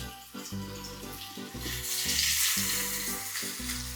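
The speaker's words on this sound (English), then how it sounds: "Listen to that sizzle." Bone-in chicken pieces laid bone side down in a hot pan for browning, a steady loud sizzle and crackle continuing throughout with low background hum.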